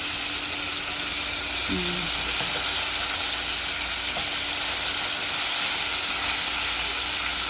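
Loud, steady sizzling of chicken frying in a pan fills the whole clip, a constant crackling hiss up close.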